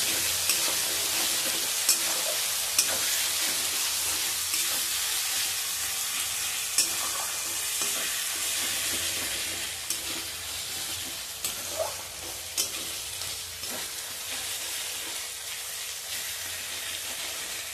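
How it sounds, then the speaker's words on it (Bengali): Ginger and garlic paste frying with tomato and onion in a pan, giving a continuous crackling sizzle with occasional small pops and stirring scrapes. "আদা রসুনগুলো ভাজা হয়ে গেছে"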